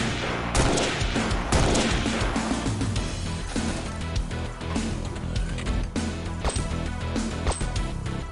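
A missile launcher fires in the video game Xpiratez, a dense rattle of sharp blasts and bangs. Loud bursts come in quick succession, then thin into scattered cracks.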